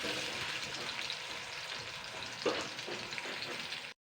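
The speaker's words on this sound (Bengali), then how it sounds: "এরপরে আমি নুন চিনি দিয়ে একটু আলুটাকে আগে ভেজে নেব লাল লাল করে ভেজে নেব" Potatoes fry in a pan with salt and sugar, giving a steady, dense sizzle throughout, with one brief stirring knock midway and no voices.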